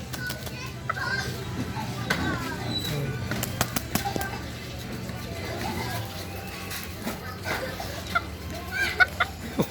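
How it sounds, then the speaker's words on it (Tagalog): Bantam chickens in a yard give rough crows and clucks amid scattered flapping and fluttering. Children's voices and chatter run throughout, with sharp bursts of noise toward the end. "Tumitilaok na, pumapagaspas pa nga yung isa eh."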